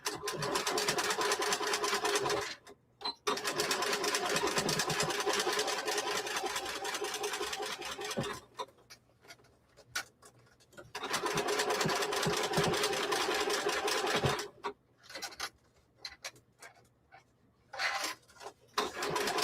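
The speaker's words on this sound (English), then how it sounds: "This is my domestic machine that I've been getting more acquainted with." A domestic sewing machine stitches in bursts, a loud, close, steady mechanical whir running several seconds at a time, stopping and restarting with short pauses between runs.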